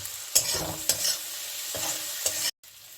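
Ground spices frying in a pan with a steady hiss, broken by several sharp stirring scrapes at irregular intervals, close by, then a sudden brief silence near the end.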